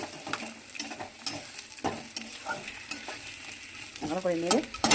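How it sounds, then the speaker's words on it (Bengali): Fish heads frying in spiced masala are stirred in a pan, giving a steady sizzle broken by clinking, scraping spoon strokes, close and clear. "মাছের মাথাগুলো দিয়ে দিলাম। এবার একটু ভালো করে নেড়ে"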